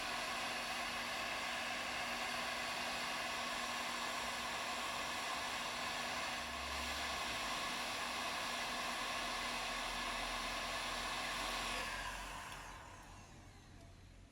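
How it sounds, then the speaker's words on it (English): A hair dryer drying a wild-clay pot blows with a steady, loud whooshing hum for about twelve seconds, then powers down and trails off into quiet. "And then it's back to the dryer again"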